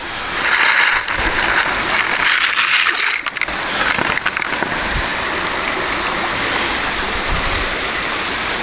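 River water splashes and swirls continuously as placer gold is washed in a pan in a side channel after spring high water, a busy close wash of water with some louder sloshing early on.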